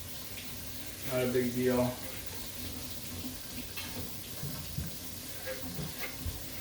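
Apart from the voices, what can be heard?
running tap water rinsing out a container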